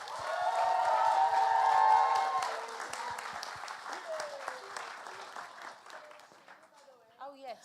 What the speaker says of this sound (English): A round of applause, please, for Ginhawa.